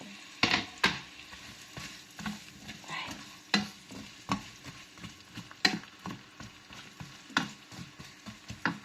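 Onions frying in a pan for chicken with lemon, a soft background sizzle broken by repeated clanks and scrapes of a spatula stirring at an uneven rhythm, close by, with no voices.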